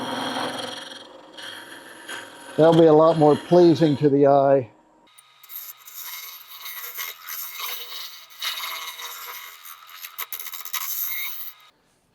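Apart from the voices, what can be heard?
Shopsmith lathe turning inside of ash bud vase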